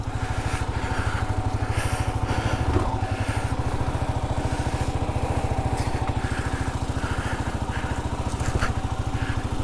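A Kawasaki KLR650 single-cylinder motorcycle thumps along off-road single track at a steady, even pulse, close and fairly loud, with brief scrapes and knocks from the trail, no talking.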